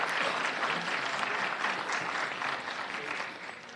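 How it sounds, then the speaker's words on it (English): Audience applause at a Los Angeles County event honouring worker advocates, a steady crowd of clapping that fades slightly toward the end, with faint voices mixed in. "Please give them a big round of applause."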